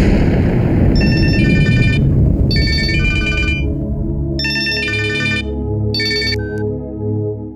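A telephone ringtone in a Tamil TV serial sounds in repeated bursts of bright electronic melody, loud over a dense music underscore, with no talk.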